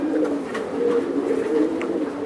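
Racer pigeons coo close by in a loft, low throaty rolling calls repeating in overlapping waves, with a few faint higher chirps and rustles between them.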